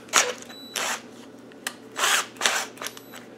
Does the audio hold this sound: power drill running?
yes